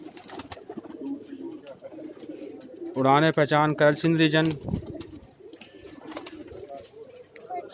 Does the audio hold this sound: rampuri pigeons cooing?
yes